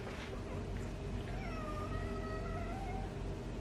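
A cat meows drawn-out and plaintive, close by, over a constant low background rumble.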